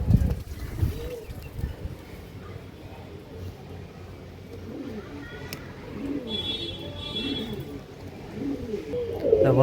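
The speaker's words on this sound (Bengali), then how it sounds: "খুবই ভালো ভালো কোয়ালিটি পায়রা আছে বন্ধুরা" Pigeons for sale in Hooghly, including a pair of green Madras birds, coo in low, throaty murmurs under someone talking nearby, with a few faint chirps.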